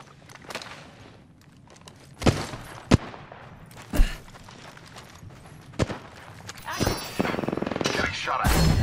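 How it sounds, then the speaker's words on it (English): Gunshots crack out in Apex Legends: scattered single loud reports early on, then denser rapid bursts of fire near the end, over a low background of movement. "They're shooting at me."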